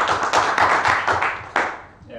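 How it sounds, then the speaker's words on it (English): An audience claps for a speaker at a Bitcoin tech conference in a short round of applause that swells and then tapers off quickly, with some talk mixed in. "So please, a big applause for Sebastian from Vitalo AG."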